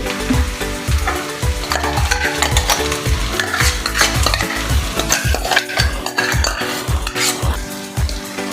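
Onion and tomato paste is stirred vigorously into a sizzling pot of paya curry, with a spoon striking and scraping the pot in a rapid steady rhythm, loud and close, with no voices.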